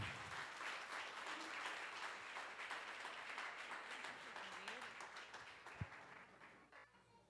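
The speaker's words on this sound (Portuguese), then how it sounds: "Se é para aplaudir, é bem forte, então." A church congregation applauding loudly during a Sunday service, continuous clapping that gradually fades toward the end, with a brief thump near the close.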